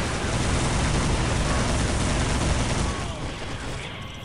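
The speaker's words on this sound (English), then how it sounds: "let's get machine gun" Machine gun fire in Iron Grip: Warlord, a loud, dense, unbroken roar of rapid shots that eases slightly near the end.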